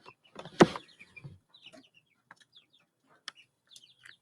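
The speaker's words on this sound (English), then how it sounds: "So my baby chickens." Faint, sparse chirps and soft clucks from baby chicks on a back porch, with a louder rustling burst near the start and quiet gaps between calls.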